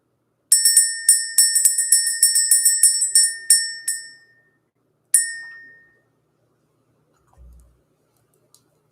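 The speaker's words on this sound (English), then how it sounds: "Let's ring the bell" A small bell is rung in a quick series of bright, ringing strikes, each with a short decay. A pause follows, then one final ring that fades out, all heard alone with no talk.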